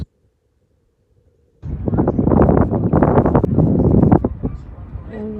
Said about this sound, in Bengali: এখন তো বাতাস